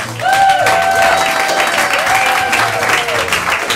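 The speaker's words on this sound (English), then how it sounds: "Give them a round of applause." An audience applauds a team at a student showcase event, a loud continuous crowd clapping with a sustained tone or whistle-like sound running through it, filling the whole clip.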